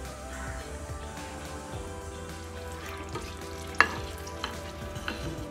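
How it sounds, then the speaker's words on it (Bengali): Dried red chilies frying in mustard oil in a pan, a soft continuous sizzle with occasional light stirring clicks and one sharper tap, close and fairly quiet. "একটু শুকনো মরিচ ভেজে নিচ্ছি"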